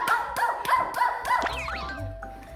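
A voice imitates a seal with a quick run of four or five short barking honks, followed by a rising squeaky trailing sound.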